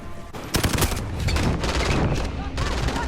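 Rapid bursts of gunfire during a Modern Warfare campaign mission on the Highway of Death, loud automatic shots stacking into a near-continuous barrage with heavier impacts mixed in.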